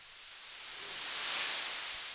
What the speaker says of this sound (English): It actually sounds quite good on the white noise.